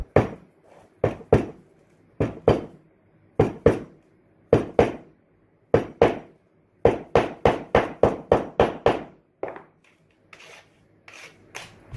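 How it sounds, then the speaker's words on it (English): A hammer packing clay around a ring in a sand casting mold, about twenty sharp, close thuds in uneven groups, some quick runs of blows, with quieter tapping at the end. "compress it with a hammer"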